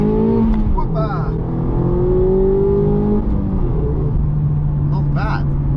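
Mazda MX5 ND roadster engine pulling hard under acceleration on a dirt-strewn road, a steady loud drone rising in pitch through the gears, with a voice talking over it.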